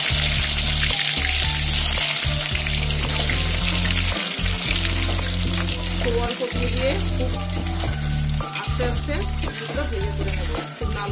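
Pan-frying for paneer butter masala, a loud dense sizzle over a steady low hum broken by short gaps, with clinks of stirring throughout and no speech.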